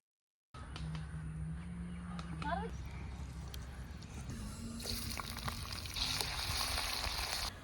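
Ginger sizzles in hot oil in a clay pot during a prawn roast, with a soft frying hiss that swells into a loud, steady sizzle partway through, over low background noise.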